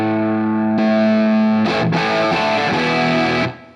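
Distorted electric guitar chords played through a SoloDallas Schaffer Replica pedal into a Marshall amp, loud and sustained, with the tone thickening partway through and a brief break before ringing out and cutting off.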